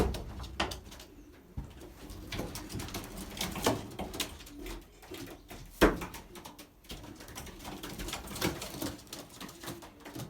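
Belgian racing pigeons coo softly in a loft, low rolling calls repeating at irregular intervals, mixed with wing flutters and scattered clicks and knocks nearby.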